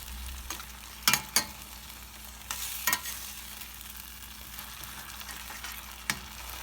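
Ginger garlic paste frying in a pan for a vegetable biryani, a soft steady sizzle with a few sharp clicks and scrapes from stirring, fairly quiet and without voices.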